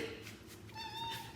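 A house cat gives a short, faint meow, a single brief call over quiet room tone.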